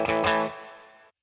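An electric guitar played through the spring reverb of a NUX Trident gives a quick strummed chord, then rings out with a smooth, fading tail for about a second before cutting off.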